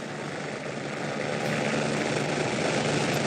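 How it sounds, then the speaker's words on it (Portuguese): A helicopter's steady rotor and engine roar fills the scene, broadband and continuous, growing slightly louder partway through, with no voices. "você vê que há um barulho de helicóptero"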